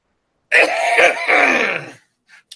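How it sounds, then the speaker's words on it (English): A person with an itchy, allergy-irritated throat coughs and clears it in one harsh, rasping burst lasting about a second and a half, followed by a couple of faint small sounds. "the only way to itch it is to cough"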